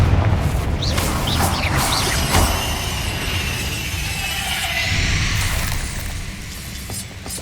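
Confringo spell explosion in Hogwarts Legacy during a fight with spiders: loud, sustained booming blasts and crackling debris layered with whooshes and a rising shimmering tone, continuous and dense throughout.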